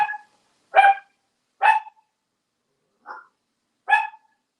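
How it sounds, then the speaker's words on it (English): A dog barks five times in short, sharp bursts spaced about a second apart, fairly close and loud, with silence between barks. "Who are you barking at?"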